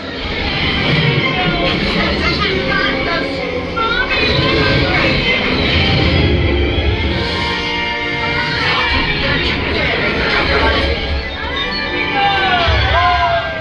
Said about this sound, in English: The crowds are crowding on May the 4th.